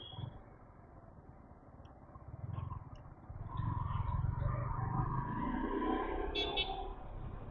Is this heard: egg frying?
no